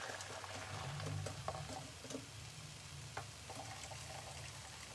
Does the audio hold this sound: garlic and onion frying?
yes